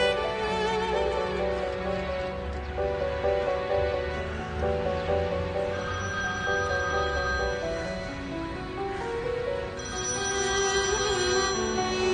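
A mobile phone rings in a Turkish TV drama scene, its melodic ringtone playing steadily for several seconds against a soft background with no speech.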